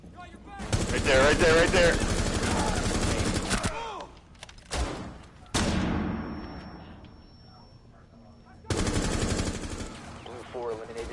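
Rapid automatic gunfire from the Rainbow Six Siege beta, loud close bursts broken by short pauses, mixed with players talking over voice chat.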